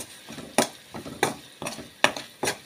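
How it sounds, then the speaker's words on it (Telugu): Spices and garam masala being stirred in a cooking pan for palak paneer: repeated scraping strokes of a spoon against the pan, roughly two per second, with a soft sizzle underneath and no voices. "అన్నిటినీ వేసి బాగా కలపాలి ఈ విధంగా."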